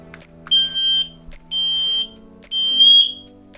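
An X-Sense XS01-WT WiFi smoke alarm sounds in test mode: three loud, piercing electronic beeps, each about half a second long and evenly spaced, close and alone.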